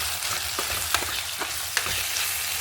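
A single tomato and curry leaves fry in a hot pan, giving a steady close sizzle with small crackling pops and brief stirring clicks scattered through.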